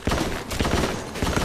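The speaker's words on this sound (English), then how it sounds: "Sniper? No, it's a shotgun." Shotgun blasts in Resident Evil: Operation Raccoon City, a rapid series of sharp, loud booming reports in close succession during a short burst of game combat, with no speech.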